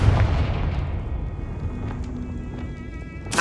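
A Confringo fire blast spell bursts in Hogwarts Legacy, a loud booming explosion at the start with a rumbling, crackling tail that lingers for a few seconds before another burst hits at the very end.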